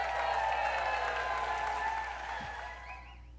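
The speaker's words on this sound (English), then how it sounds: "Let's give her a big round of applause." A studio or event audience applauds a woman coming onstage, a steady wash of clapping that fades out near the end.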